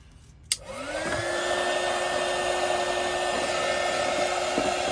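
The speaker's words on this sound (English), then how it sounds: "I'll just put a little bit more heat on him." Heat gun blowing onto a wet acrylic ring pour painting: a click, then a steady, close whooshing blower hum that holds loud and even to the end.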